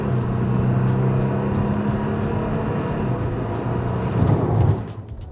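Inside a 2021 Maserati Levante SUV driving along city roads through small towns, a steady low engine and road drone holds throughout. It swells briefly near the end, then eases off.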